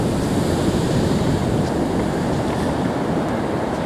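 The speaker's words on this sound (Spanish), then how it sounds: "el mar hoy está bastante picado y rompe súper fuerte contra las rocas y hace un ruido súper, súper chulo" Rough sea at Kovalam Beach, Kerala, crashes hard against rocks in a continuous, loud, churning roar of surf, with no voices.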